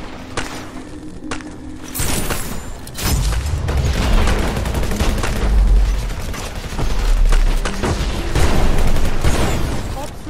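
In the strategy game Eximius, a base comes under attack with heavy booms and bursts of gunfire, and dense explosions roll on continuously. A voice announcement is heard now and then over the din.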